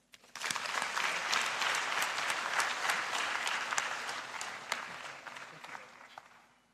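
Audience applause after a speech at a Sahel governance forum, a dense sustained round of clapping from a sizable crowd that holds steady for several seconds before tapering off.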